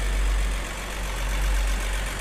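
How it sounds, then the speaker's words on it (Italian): A classic Mercedes 280 CE coupe with mechanical fuel injection idles smoothly up close, giving a steady, low, even rumble with no voices. "Senti come gira, un minimo perfetto"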